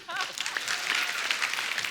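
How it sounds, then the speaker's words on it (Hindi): Studio audience at a TV comedy show applauding, broad clapping noise filling the short stretch, with voices and a brief tonal sound at the start. "हाउसफुल 5 के लिए भी आप लोग आएंगे, जोरदार ताली हो जाए"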